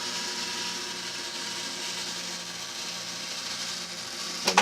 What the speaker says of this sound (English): And you can allow the camera to swing through